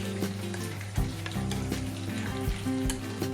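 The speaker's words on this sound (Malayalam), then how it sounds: "ഈ മിക്സ് ചെയ്ത ഈ പൊടിയെല്ലാം നമുക്ക് ഈ കടുക് വറുത്ത ഇതിലേക്ക് ഒഴിച്ചു കൊടുക്കാം" Spice powder mixed with water is poured into a pan of sizzling mustard-seed tempering for kadala (chickpea) curry, giving a loud, steady frying hiss with bursts of crackle and stirring clatter throughout, with no voices.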